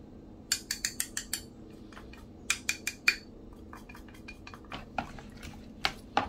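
A utensil clinks and scrapes against a bowl in quick bursts, mixing fish pieces with cornstarch, pausing between rounds of mixing, with no talking.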